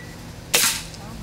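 A single sharp crack from a Benjamin Prowler .177 air rifle fired outdoors, close and loud, with a quick decay into quiet background.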